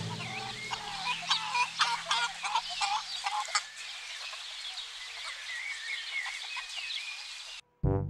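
A toy chicken clucks in rapid, repeated bursts over a steady hum, close and fairly loud, then stops abruptly before a short final thump.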